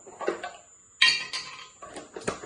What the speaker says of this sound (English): So I'm adding my sorrel to the container now